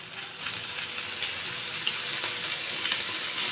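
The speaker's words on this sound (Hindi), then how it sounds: "अब हम इसमें लेमन जूस डालेंगे।" Chicken frying in a pan as lemon juice goes in, a steady close sizzle and crackle running throughout with no voices.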